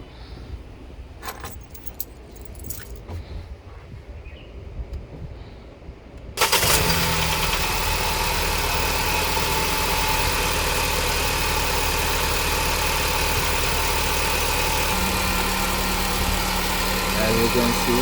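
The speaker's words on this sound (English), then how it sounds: "I will start the engine." Keys jangle briefly before a Ford car engine cranks and catches, then settles into a steady, loud idle running to purge air from the coolant system during a coolant change.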